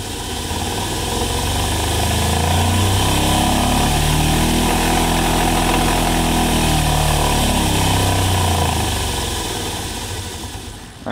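An electric motor spinning up and then slowing down, its loud humming drone rising in pitch to a steady peak midway before sweeping back down and stopping, with no talking.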